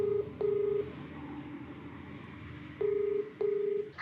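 Touch-tone dialing to place a telephone call: short, clear electronic beeps come in two pairs, one pair near the start and one near the end, with a low steady hum filling the gaps.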